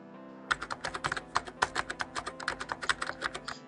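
Rapid typing on a computer keyboard while an Aadhaar number and captcha are entered, a close, steady run of crisp individual key clicks that starts after a brief pause, with no talking.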